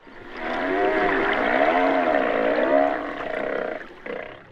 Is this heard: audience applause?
no